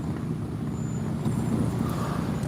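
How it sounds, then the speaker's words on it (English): Steady traffic roar from cars passing close to a carp fishing spot, a continuous loud low rumble with no pauses and no talking. "There are a lot of cars going by."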